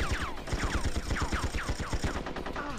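Rapid automatic gunfire from the video game Tomorrow Never Dies rattles in a fast, continuous string of bursts, loud and dense for the whole stretch.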